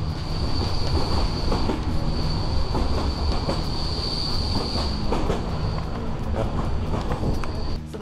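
Passenger train running on rails near Plovdiv, Bulgaria, heard from inside a carriage with an open window: loud, continuous rumble and rattle of wheels with faint squeals throughout.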